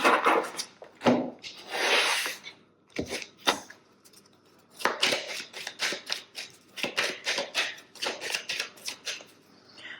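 Tarot or oracle cards are shuffled by hand in a run of quick papery riffles and rubbing bursts, close and fairly loud, with brief pauses between rhythmic flurries and no talking.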